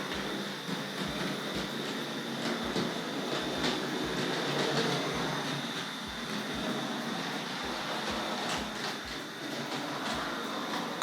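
A small Tri-ang R.153 saddle tank model locomotive with goods wagons whirs steadily along its track, with regular soft clicks as the wheels pass over rail joints.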